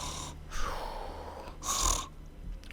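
A voice mimics snoring for sleeping soldiers, two drawn-out snore-like breaths around half a second and two seconds, faint and close, with low hum between them.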